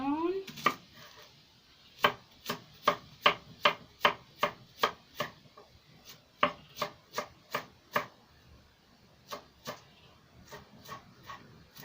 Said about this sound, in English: Now I cut the onion.